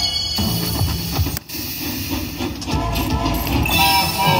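A train sound effect from a casino slot machine bonus: a loud, continuous rush of rumbling, hissing steam with faint clickety-clack, playing steadily for several seconds amid the machine's noisy chimes.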